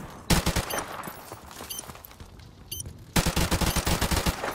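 Bursts of rapid automatic gunfire in Modern Warfare Remastered, one short volley at the start and a longer sustained rattle near the end with scattered single shots between, loud and close, no talking.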